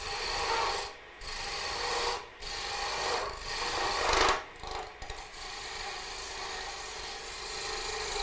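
A skew chisel cuts wood spinning on a lathe, a quiet, continuous rasping scrape broken by several brief pauses as the tool lifts off and returns to the work.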